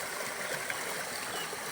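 Water in a clean creek flows with a steady broadband rush and trickle, continuous and close, with no talk over it.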